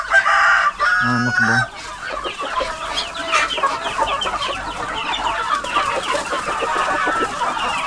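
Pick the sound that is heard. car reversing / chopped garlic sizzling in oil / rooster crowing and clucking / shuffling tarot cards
rooster crowing and clucking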